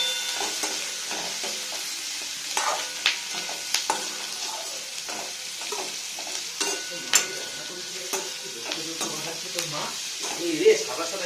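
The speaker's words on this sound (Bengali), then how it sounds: "বেবিকর্ন ভাজছে" Baby corn fries in a pan in a home kitchen, a continuous sizzle broken by frequent clattering stirs and scrapes of the spatula, close and fairly quiet, with no one talking.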